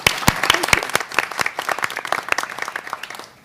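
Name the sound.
applause for committee members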